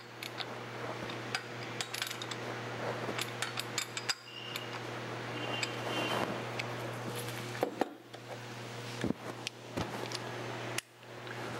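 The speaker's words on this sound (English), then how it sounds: "Now I'm just going to use my ratchet and go around in a staggered pattern," A ratchet snugging flywheel bolts on a 2003 Kia Rio, scattered faint metallic clicks and clinks in a quiet workshop over a low steady hum.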